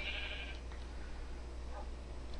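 A single nasal bleat from a Minecraft sheep at the start, then a few fainter bleats over a steady background hum.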